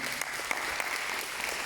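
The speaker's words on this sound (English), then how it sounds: "Please give them a round of applause." Audience applause in a hall at a citizenship ceremony, a dense, even patter of many hands clapping throughout, moderately quiet and steady.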